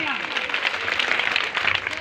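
Applause from an audience at a Hindi stage play for an NCC day celebration, a dense, steady clatter of many hands clapping for about two seconds, fairly loud and continuous.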